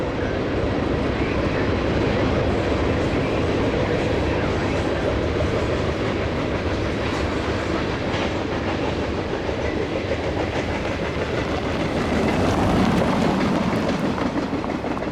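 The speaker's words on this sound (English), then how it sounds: "that is train 583, the London to Paris train" CN train 583, from London to Paris, Ontario, rumbles past on the rails, a steady broadband roar with faint rhythmic clatter, loud and close throughout.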